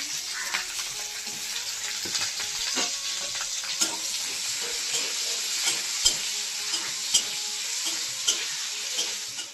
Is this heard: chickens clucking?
no